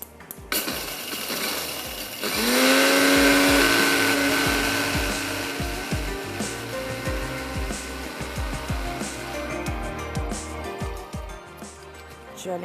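Roasted poppy seeds and fennel whir in an electric kitchen grinder, a loud motor burst that rises sharply then settles into a steady drone with rattling grains, running alone for several seconds.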